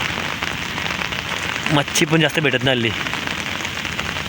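Heavy rain that has fallen for days during a net-fishing outing makes a constant dense hiss on surfaces, and someone speaks briefly over it partway through.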